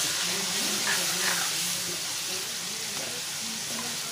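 Masala goes into a home-cooked vegetable dish frying in a pan, making a continuous close sizzle with faint stirring scrapes and a voice softly in the background.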